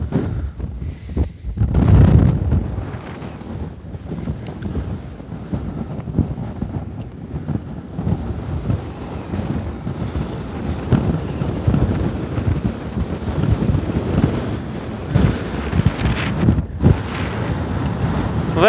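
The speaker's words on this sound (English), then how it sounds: "Very windy today." Strong wind buffets the microphone with a steady low roar that swells in gusts at the Gunnuhver geothermal field in Iceland, with no one speaking.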